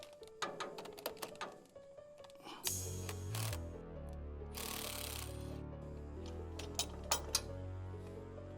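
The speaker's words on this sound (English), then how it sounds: "I need to grab a 14mm wrench to take this other control arm off on this." A 14mm wrench ratcheting while a car control arm is removed, with quick metallic clicks and clanks up close, then heavier rattling metal and a few sharp knocks near the end.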